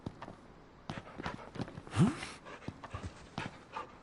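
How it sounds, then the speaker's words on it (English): A dog panting in the video game Final Fantasy XV, quick breathy puffs in a steady rhythm over game ambience and footstep-like thuds, with one louder burst near the middle and no talk. "Are you her dog?"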